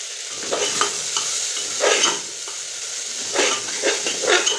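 Mughlai filling of tomato, capsicum and green chilli fries in an uncovered pan after several minutes under a lid, giving a steady close sizzle broken by repeated scraping stir strokes.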